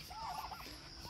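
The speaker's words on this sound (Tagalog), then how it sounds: "Feeding turkey and duck." Farm turkeys gobble during feeding, a brief warbling call over a steady background hiss, faint and somewhat distant, with no talking.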